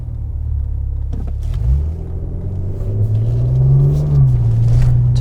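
A 2014 Maserati Quattroporte S Q4 all-wheel-drive luxury sedan is driven, its deep engine rumble heard from the cabin and swelling as the revs climb toward the end.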